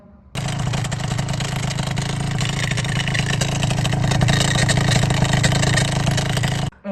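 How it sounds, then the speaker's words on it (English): Faulty cooling water pump on a Yamaha Aerox 70cc scooter with a Minarelli engine, its loose plastic impeller broken off, running in a steady loud drone under a continuous idling engine from start to near the end, then abruptly cut. "I heard some very weird sound from the cooling pump"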